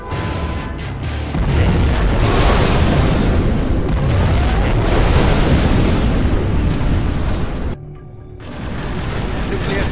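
A nuclear missile strike in the strategy game Command & Conquer Generals, a sustained heavy roaring boom of explosions and debris that briefly drops away near the end before the rumble returns.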